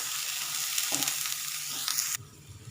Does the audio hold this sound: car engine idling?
no